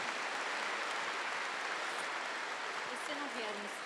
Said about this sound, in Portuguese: Vamos aplaudir todos os casais